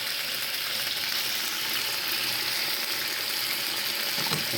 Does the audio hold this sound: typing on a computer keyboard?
no